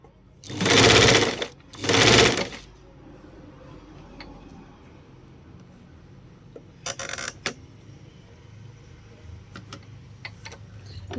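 Sewing machine sewing a long gathering stitch, two loud whirring bursts early on, then quieter scattered clicks and a short, softer run later.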